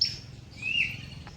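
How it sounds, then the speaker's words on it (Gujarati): A caged parrot at a zoo gives short, sharp squawking calls, two shrill bursts close by within a brief moment, over a faint low background hum. "આ છે એકલિટ્સ પોપટ."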